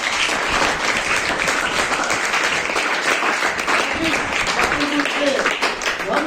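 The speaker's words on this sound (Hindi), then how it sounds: "इन लोगों का जोरदार तालियों से स्वागत करेंगे।" An audience at a Ram Navami eve gathering with students gives loud, continuous applause to welcome guests, dense clapping held for six seconds, with some voices mixed in.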